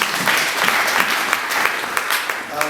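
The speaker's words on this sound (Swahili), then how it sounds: "Pige makofi Bwana Yesu." A church congregation at a Sunday afternoon service claps together in a dense, lively burst of applause filling the room, close and loud throughout.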